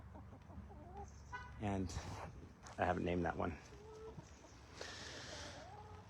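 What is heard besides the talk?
chickens clucking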